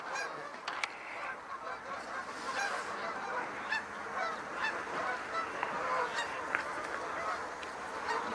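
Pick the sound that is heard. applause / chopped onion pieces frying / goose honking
goose honking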